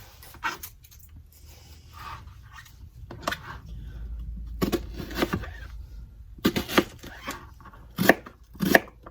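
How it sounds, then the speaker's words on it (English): An onion being cut with a knife on a board, scattered groups of sharp chopping taps that grow denser and louder toward the end, separated by quiet pauses. "onions is not one of my favorite things to cut up"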